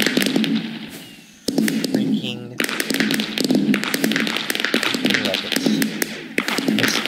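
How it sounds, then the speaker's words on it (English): Fireworks go off in a Minecraft server's amusement park display, a dense run of repeated popping bursts with a short lull partway through, mixed with voices. "Fireworks display."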